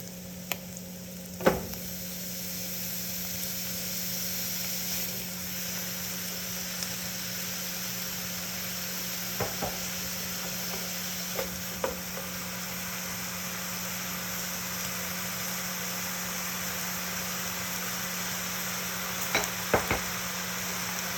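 Fat for a ragu bolognese simmering in a pan, a steady low sizzle and bubbling hiss running throughout at moderate level, with a few brief clinks and taps of a utensil against the pan.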